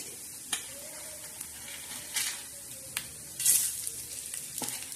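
Whole spices roasting in a hot pan, dry and fizzy, with sharp scattered crackles and pops and a brief burst of sizzle partway through, close up with no voices.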